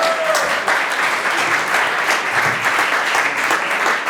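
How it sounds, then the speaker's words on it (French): A steady wash of audience applause fills the room at a celebration speech, with many hands clapping at once, loud and even for the whole few seconds and no clear talk over it. "Applaudissements!"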